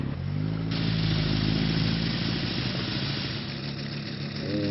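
A motorcycle engine idling nearby, a steady low rumble with a faint shift in pitch toward the end and no voices over it.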